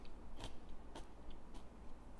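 Someone bites into crunchy food, three or four crisp, sharp cracks spaced about half a second apart over a quiet, close background.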